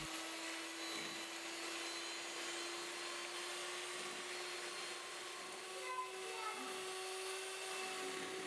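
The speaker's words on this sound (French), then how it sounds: "je rajoute le sucre, l'extrait de vanille, le sel et je passe le tout au batteur" Electric hand mixer whipping eggs with sugar, vanilla and salt in a bowl for a caramelized cake, a constant high motor whine with a bright hissing wash, steady and unbroken throughout.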